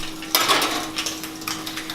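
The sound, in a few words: whisking eggs for an omelette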